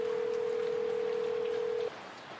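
A steady electronic telephone tone sounds on a TV shopping broadcast, holding level for nearly two seconds before cutting off, leaving a quiet background.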